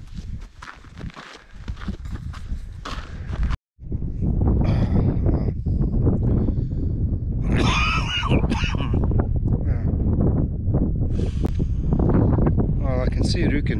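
Wind blows outdoors on a summer day on a road near Ruken, a steady rumbling buffet across the microphone with footsteps crunching underneath and a brief dropout near the start.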